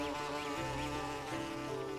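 A bee buzzes softly on a rooftop, a faint steady drone with slight wavering pitch over a quiet background, no voices.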